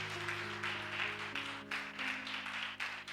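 A congregation at an evening church service applauds for Jesus, a steady wash of clapping sustained throughout with sustained musical tones underneath.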